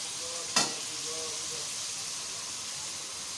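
Chicken palak with spices fries in a pan with a soft, steady sizzle and hiss throughout, broken once by a brief sharp burst near the start; nobody speaks.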